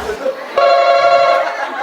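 A telephone ring serves as the answer buzzer in a quiz game at a birthday celebration, a steady electronic ringing of about a second and a half under lively crowd chatter and laughter.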